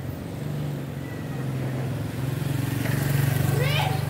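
Motorcycle engine hums nearby and grows louder as it passes, a steady low buzz beneath children and adults talking, with a bird chirping near the end.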